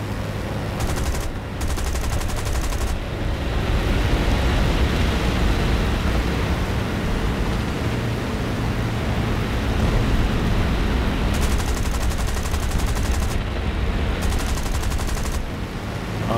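Sustained aircraft machine gun fire in a War Thunder dogfight, a loud, continuous roaring stream of rapid shots layered over engine drone, with a few brief lulls and no voices.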